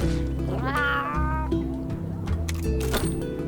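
A cat meows in the video game Monster Hunter Stories 2, one drawn-out rising and falling meow over a steady game music backdrop, loud and close.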